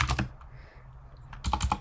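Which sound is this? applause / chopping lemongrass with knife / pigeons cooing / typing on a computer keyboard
typing on a computer keyboard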